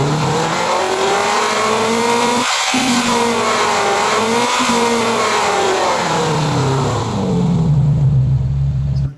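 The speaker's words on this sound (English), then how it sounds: "if I load up the Ferrari engine here as well" A Ferrari engine revs continuously, its pitch sweeping up and down through the range, loud and close with no pauses.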